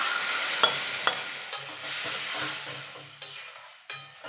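Boiled dal going into a hot pan of fried ginger, a hissing sizzle punctuated by several sharp ladle or pan knocks at irregular intervals, close up with no voices.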